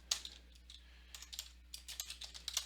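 Fingers type on a computer keyboard in quick, uneven bursts of soft clicks and taps. The sound is close and quiet, with no speech.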